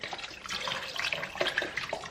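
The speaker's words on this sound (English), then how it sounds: "I just filled up my chicken broth container with water, and I'm just adding in" Water poured from an emptied chicken broth container into a soup pot, a steady splashing, gurgling stream heard close up without talk.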